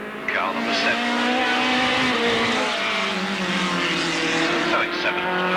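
Race cars roar around the Alwalton track in a pack, their engines whining and shifting pitch as they take the pit bend, loud and close, with a commentator talking over them.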